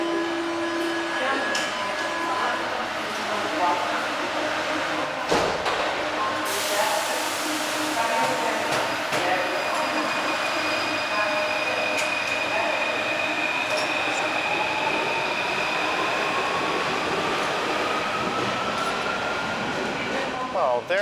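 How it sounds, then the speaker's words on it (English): A Paris metro train rumbles and whines loudly as it pulls away from a station near the Eiffel Tower, with a rising electric motor tone, a brief hiss and steady rolling noise. "And it seems like I just missed a train."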